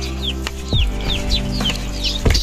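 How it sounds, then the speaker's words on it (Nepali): Chickens clucking near a coop, with repeated short squawks and clucks at close range over a steady low background hum and some thumps. "यो कुखुराको खोर कुखुराहरू चाहिँ यस्तो बनाएरै"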